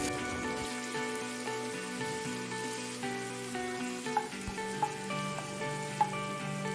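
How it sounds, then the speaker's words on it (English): Chopped onions dropped into heated oil sizzle steadily for a chicken Chettinad curry, a constant crackling hiss with a few sharp pops standing out, close and alone. "The oil is heated. Now I'll add the chopped onions into it."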